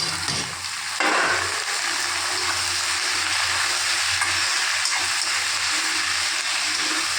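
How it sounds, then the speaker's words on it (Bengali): Sliced potatoes tipped into a pan of lightly fried onions, sizzling steadily in hot oil while being stirred, with a louder burst of frying as they land and a continuous close hiss throughout. "এরকমই আমি আলুটা ঢেলে দেবো"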